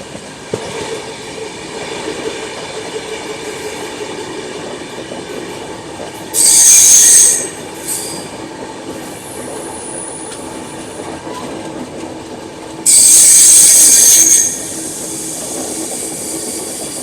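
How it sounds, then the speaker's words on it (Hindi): A Bengaluru Rajdhani Express rolls across the railway bridge over the Wardha river with a steady rumble of wheels, broken by two loud, high metallic squeals a few seconds apart. "सो फाइनली भी आ चुके हैं हम लोग वर्धा रिवर पे बने हुए रेलवे ब्रिज पर"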